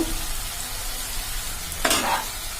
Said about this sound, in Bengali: এবার ভালো করে এটা কষিয়ে নেব